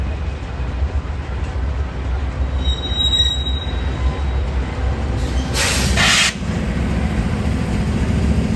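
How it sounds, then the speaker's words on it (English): A BNSF coal train rumbles steadily past nearby, its wheels letting out bright metallic squeals that swell sharply for a moment midway before easing back into the continuous rolling drone. "It started off as just another BNSF coal train"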